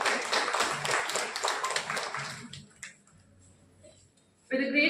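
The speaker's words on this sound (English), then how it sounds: "A big round of applause for starting off the event" An audience at a national college law conference at CPJ College claps for a few seconds in a dense burst of applause that fades away, followed by a brief pause and then a voice.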